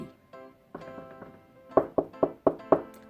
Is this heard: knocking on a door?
yes